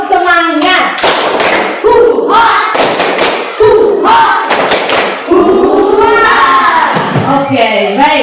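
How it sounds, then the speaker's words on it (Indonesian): A primary-school class does a rhythmic spirit clap, with sharp bursts of group hand claps in a patterned beat alternating with children's voices chanting together, loud and close. "kita tepuk semangat dulu. Tepuk semangat"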